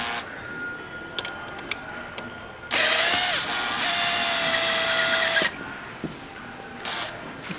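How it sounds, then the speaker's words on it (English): A power tool, likely a driver, whirs in two loud sustained bursts while Allen screws are removed from a chair's front stretcher bar bracket, with small metallic clicks and taps before and after. "Remove these two front Allen screws from that bracket."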